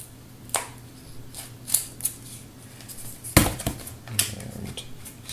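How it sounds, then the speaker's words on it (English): Scissors snip the edges of a part for a Raptor prosthetic hand, giving several separate, sharp cuts at an irregular pace, close and fairly loud, with no talking. "So now I want to trim the edges so that it sort of matches the shape of the opening."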